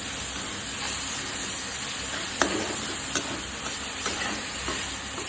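An onion and ground spice paste sautés in a pan for a Marathi home dish, giving a dense, steady sizzle close up, broken by a few light scraping clicks as it is stirred.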